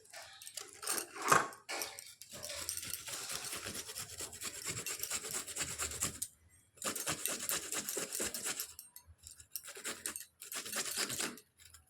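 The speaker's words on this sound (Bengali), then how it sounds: "ততক্ষণে আমি একটু আদা আর রসুনটা বেটে নেবো শিলে।" Ginger and garlic are ground on a flat grinding stone (shil), a steady rough rubbing and rasping of stone on stone that comes in long strokes with short pauses between them.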